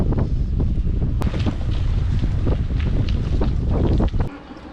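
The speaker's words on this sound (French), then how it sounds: "Il y a de fortes rafales de vent de face là." Strong headwind gusts buffet a bicycle microphone on a riverside cycle route, a loud continuous low roar of wind that keeps surging, then drops away suddenly near the end.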